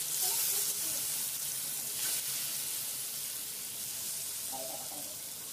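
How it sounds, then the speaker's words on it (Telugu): Soaked, spiced fish pieces sizzle in oil on a flat pan, a steady hissing fry that stays fairly even throughout with faint clinks and no talking. "అవి ఒక్కొక్కటిగా పెనం మీద వేసేసేయండి"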